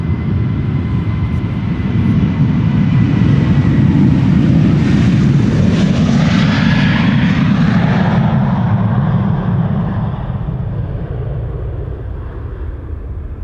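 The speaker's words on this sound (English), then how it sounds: "KLM flight 1257 to Rovaniemi" A KLM jet departs Amsterdam Schiphol on flight 1257 to Rovaniemi, its engines a loud, steady roar that swells through the middle and then slowly fades as the aircraft climbs away.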